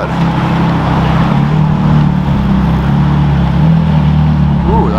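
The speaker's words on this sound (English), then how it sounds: "That sounds straight pipe." A sports car with a straight-pipe exhaust drones loudly and steadily nearby with a deep, continuous rumble, while people talk over it and a brief whistle-like sound appears near the end.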